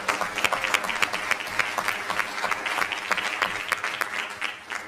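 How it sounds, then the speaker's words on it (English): An audience at a school district board meeting gives a round of applause, with individual claps distinct in a moderately dense, steady burst lasting several seconds. "can we have a huge round of applause,"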